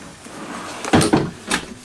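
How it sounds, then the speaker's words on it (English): A pots-and-pans drawer in a 2017 Forest River Charleston 430 BH RV glides on ball-bearing slides, giving a close, short rolling slide followed by a couple of soft knocks as it stops. "Pots and pans drawer there on the ball bearing drawer glides, and it'll get so far"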